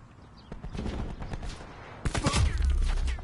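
A Maddox rifle in a video game fires in repeated bursts, distant-sounding at first and then louder, closer and continuous in the second half, with faint talk underneath.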